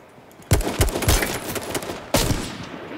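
Gunfire in H1Z1 King of the Kill: a loud burst of several rapid shots, then a second sharp volley shortly after, close and punchy with no talk over it.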